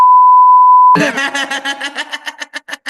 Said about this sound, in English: We're gonna beep that one out.